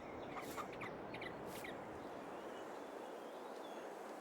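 Faint chicken clucking and gobbling calls from a chicken coop in Farming Simulator 22 sound over a steady noisy background, a few brief calls near the start.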